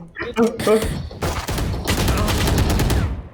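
Gunfire in the Valorant video game, with a few spaced shots early on, then a dense, loud burst of rapid shooting that fills the rest of the moment, while players talk over it.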